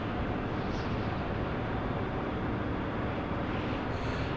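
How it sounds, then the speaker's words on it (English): An aircraft launches from a carrier in the Carrier Command 2 video game. A dense, steady engine roar stays loud and constant throughout. "You'll see the aircraft come up in a second."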